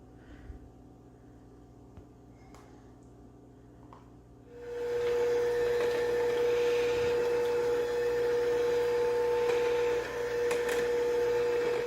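An electric mixer beating egg mixture into sugar mixture for vanilla cupcakes: after quiet, a steady whirring motor hum starts and runs evenly, close and moderately loud.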